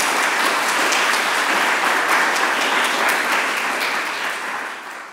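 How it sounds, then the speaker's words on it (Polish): Sustained, dense applause from a conference audience at the Polish Scientific Networks: Science & Business closing session, steady and loud throughout before tapering slightly at the end, with no talk over it. "bardzo proszę o ogromne brawa dla wszystkich tych osób"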